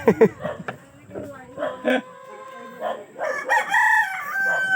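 A rooster crows in a drawn-out, wavering call near the end, with clucking chicken sounds mixed among excited voices talking nearby.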